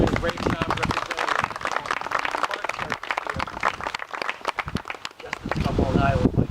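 An audience applauds tour guides at a celebration of Lindenwald's 40 years as a historic landmark, a dense, continuous patter of clapping with voices talking through it.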